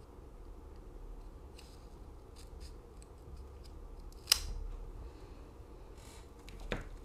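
Scissors cutting open the cardboard-backed packaging of a G.I. Joe Classified action figure, quiet snipping and rustling with a sharp close snip near the middle and another toward the end, no talking.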